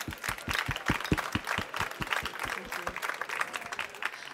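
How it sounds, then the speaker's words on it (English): A conference audience claps after a talk: fairly quiet applause from a modest crowd, with distinct individual claps in a brisk, fairly regular rhythm near the start that gradually thin and soften. "So clap your hands together for Sam NAZARKO."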